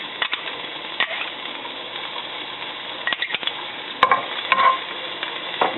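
Chopped garlic frying in a pan while cooking grilled eggplant with ground pork, a steady sizzle broken by stirring scrapes and clinks of a utensil.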